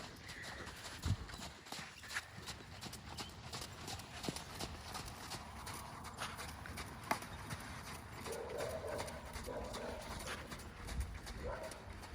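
Horse hooves clip-clop in a steady rhythm on firm ground, fairly close, with soft outdoor ambience and occasional faint voices.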